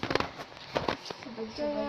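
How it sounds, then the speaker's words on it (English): TNT blowing up in the video game Lego Worlds, heard as a few sharp crackling bursts early on, followed by game tones, with speech-like sounds over parts of it. "Oh my goodness, the, the explosion."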